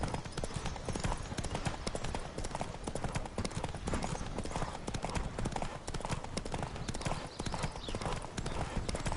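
Rapid hoofbeats of a galloping horse in The Witcher 3: Wild Hunt pound steadily throughout, loud and close, mixed with rushing wind and game ambience.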